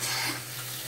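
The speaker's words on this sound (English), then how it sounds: "we should be able to now have our faucet working again" Water runs steadily from a newly repaired single-hole bathroom lavatory faucet, a continuous close hiss of flow into the basin with no talk over it.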